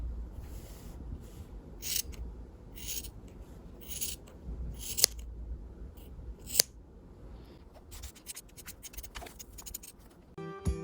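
Scissors snip through fabric pieces cut from pinned paper templates for an owlbear plush, a run of close, crisp cuts in irregular bursts with a couple of sharp clicks, no talking.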